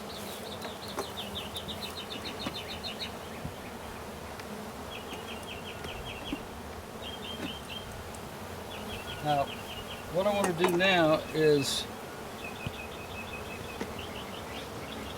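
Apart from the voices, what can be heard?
honeybees buzzing around hive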